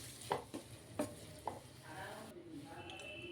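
Okra fries and is stirred in a pan, with several sharp scraping strokes of a spatula over a steady sizzle that then settles into softer frying.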